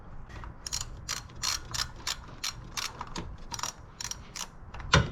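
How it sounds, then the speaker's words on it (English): A thermostat housing bolt is screwed back on a 2006 Honda Civic 1.8L engine with a ratchet, giving a run of quick, close clicking bursts. "Now we're gonna screw it back on."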